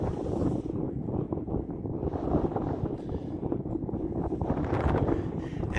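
Strong wind buffets the microphone in a steady, rumbling roar that swells and eases without pause, on the summit of Mount Evans, Colorado, at about 14,200 feet.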